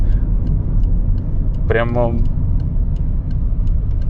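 Engine of a Subaru Impreza with a loud aftermarket exhaust while driving, a steady low rumble under cabin noise, with a brief voice in the middle.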